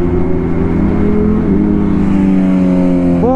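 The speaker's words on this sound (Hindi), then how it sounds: "पीछे से S1000RR आ रही है" A BMW S1000RR superbike comes up from behind on a highway, a loud, sustained engine drone mixed with heavy wind rush, its pitch rising sharply right at the end.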